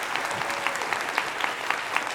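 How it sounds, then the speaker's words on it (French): An audience in a lecture hall claps steadily for a couple of seconds, a dense and even patter at moderate distance with no voices over it. "On peut les applaudir s'il vous plaît."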